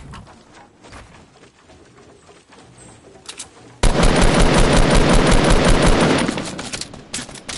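Rapid automatic gunfire in the video game DC Universe Online, a loud continuous burst of shots after quieter scattered game sounds, with no talk.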